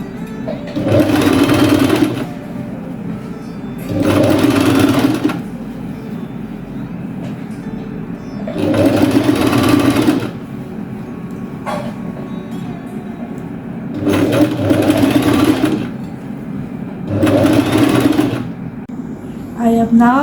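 A sewing machine stitches the facing of a kaftan in five loud, close bursts of fast rhythmic whirring, each lasting a couple of seconds and separated by quieter pauses.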